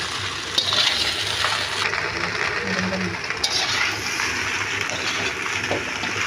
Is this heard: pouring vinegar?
yes